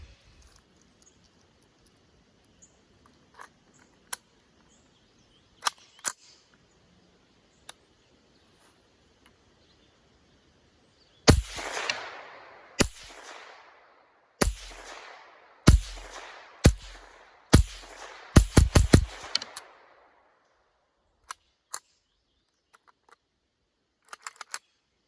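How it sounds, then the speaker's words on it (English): Several .22 LR rifles fire in a sequence of sharp, fairly loud cracks, single shots then a quick cluster, with soft clicks of handling in quiet gaps. "go ahead and show you the firing."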